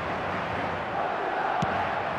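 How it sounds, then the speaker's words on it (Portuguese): A stadium crowd in a football video game, FC Barcelona against Real Madrid, chants and roars as a steady, dense wash of many voices with no clear break, heard at a distance throughout. "A torcida já começa a ensaiar os gritos mais conhecidos"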